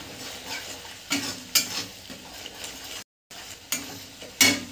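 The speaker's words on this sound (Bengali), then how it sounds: "মশলাটা আমার ভালো করে কষা হয়ে গেছে" A spice masala of chili, cumin and coriander powder fries in a pan for palak paneer, a low sizzle punctuated by repeated scraping stirs of a spatula against the pan, with a brief gap midway.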